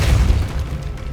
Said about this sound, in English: Depulso!